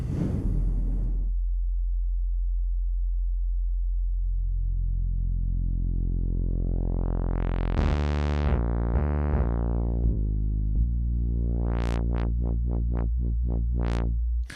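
A U-he Bazille software synthesizer with its tone phase-distorted by another oscillator: a low sustained drone that swells, slides upward into bright sweeping tones, then several sharp rising chirps, loud and alone throughout.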